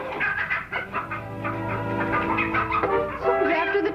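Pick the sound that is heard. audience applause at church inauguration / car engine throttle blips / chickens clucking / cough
chickens clucking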